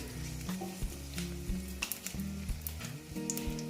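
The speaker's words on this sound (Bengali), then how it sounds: "এই দেখো কাঁচা শুকনো লঙ্কা দিয়ে দিলাম" Dried red chillies and five-spice (panch phoron) crackle and sizzle in hot oil in a pan while cooking kalmi greens, a steady close frying hiss with sharp pops, with soft tonal sounds in the low range beneath.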